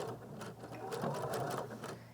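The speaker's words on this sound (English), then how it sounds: "This is where I'm stitching. I definitely want to do my back stitch." A sewing machine runs steadily, stitching fabric along a curved seam and reversing for a back stitch, its motor hum and rapid needle clatter continuous and close for about two seconds.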